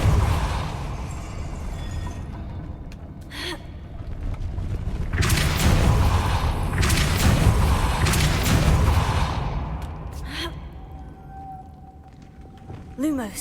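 Repulsor, a force spell, cast in the Hogwarts Legacy video game: a rumbling magical whoosh swells into a dense, noisy blast lasting several seconds, then fades with a few short creaks and a final thump.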